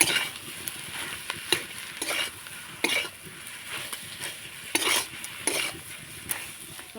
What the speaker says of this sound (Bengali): আলুর সঙ্গে সব কিছু মশলাগুলো ভালো করে কষিয়ে নিতে হবে।